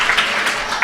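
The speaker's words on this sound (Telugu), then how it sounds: "చప్పట్లు కొట్టండి గట్టిగా" A church congregation claps together during a special prayer meeting, a dense, steady wash of applause with a few sharper bursts, close and fairly loud throughout.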